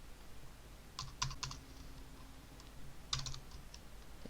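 Quiet tapping of a computer keyboard while JavaScript for-loop code is entered, two short bursts of several keystrokes each separated by a pause, close and soft over faint room hiss.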